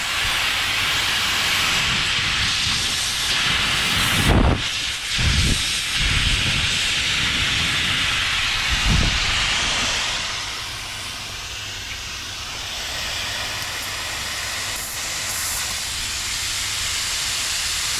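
Refrigerant hisses from a leak beside the tube sheet on a Rheem heat pump condenser, a loud steady spray with a few sharper bursts and thumps partway through.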